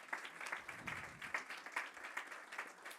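An audience applauds together in a conference hall, a steady wash of many hands clapping at a moderate distance, without speech.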